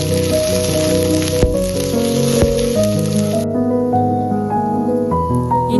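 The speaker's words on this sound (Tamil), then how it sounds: "எல்லாத்தையும் போட்டு லைட்டாக அந்த எண்ணெயில் பொரிய விட்டுருங்க" Ginger, green chillies, dried chillies and curry leaves frying in hot oil, a loud close sizzle with crackling pops that thins and quiets partway through, no voices.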